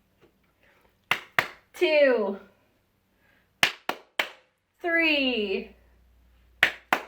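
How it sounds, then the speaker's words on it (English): Hands clap out numbers: two sharp claps, then a voice says a number, then three claps, then another number is spoken, and two more claps follow near the end. The claps are close and crisp in a quiet room. "Let's go ahead and clap out our numbers."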